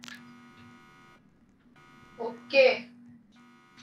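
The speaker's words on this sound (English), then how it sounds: "So an alarm is going off." A Roblox break-in game alarm drones as a steady electronic buzzing tone that cuts out briefly and then resumes, with someone speaking over it.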